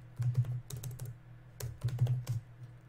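Keystrokes on a computer keyboard entering a Composer command, with two quick bursts of clicking taps close by and a short pause between them, no talking.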